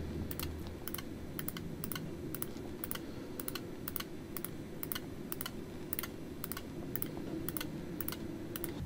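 Keys on a Casio 991 calculator are pressed to enter 3x3 matrix data. The short, sharp clicks repeat at a steady pace over a constant low background hum, with no voices.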